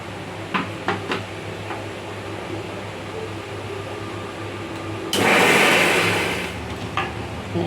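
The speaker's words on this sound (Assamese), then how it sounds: "মিক্সাৰত পিচি ল'ম" A mixer grinder whirs loudly for about a second and a half, grinding fried spices for an Assamese fish curry, framed by a few clicks and clatters against a quiet room hum.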